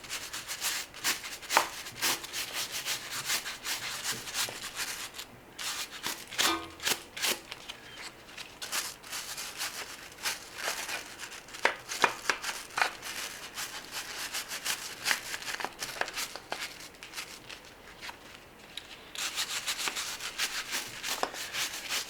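A brush scrubbing degreaser over a car engine, a long run of rough, rapid rubbing strokes that come in uneven bursts at moderate volume.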